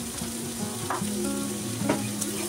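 Vegetables for Mumbai-style pav bhaji fry gently over a medium flame with a steady close sizzle, broken by a couple of soft stirring scrapes, and no one speaking.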